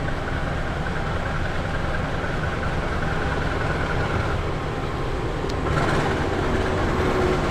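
A Majapahit passenger train set is shunted through a station in the rain, giving a continuous rolling rumble and hiss at an even level that swells slightly near the end.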